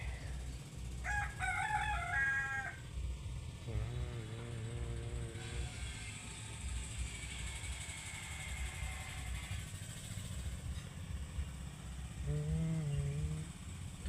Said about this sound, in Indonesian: Itu kandang ayam.